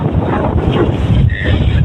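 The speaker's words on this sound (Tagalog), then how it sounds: "Sobrang mahangin." Strong wind buffets the microphone at a mountain peak, a steady loud roar with gusty rumble throughout, close and unbroken, with no voices.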